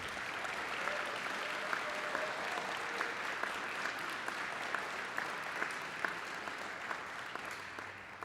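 Honors Day applause for student scholars: a large audience claps continuously, dense and even, with a few sharper individual claps standing out through the steady roar.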